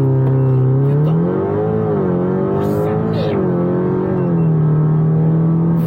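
An Audi TTS launches at full throttle, its engine note climbing steadily in pitch through the gears, loud and close from inside the car, with a brief shift dip midway.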